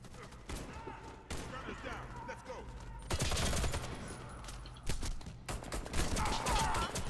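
Sustained bursts of ZX84 machine gun fire in the Warface shooter game, rapid and loud, running in dense stretches with brief gaps between volleys.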